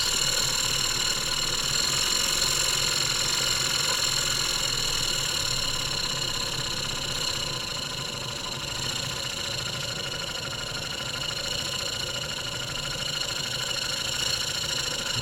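A German showman's steam engine runs steadily with its throttle opened a little, giving a continuous mechanical hum with a dense rhythmic clatter and bright whine, close and even throughout with no voices.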